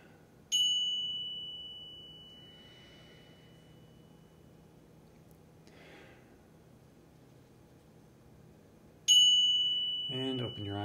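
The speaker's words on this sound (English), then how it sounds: "And now for the last, there's our bell." A meditation bell strikes twice, each bright clear tone ringing out and slowly fading over several seconds in a quiet room, with a soft voice speaking briefly at the end.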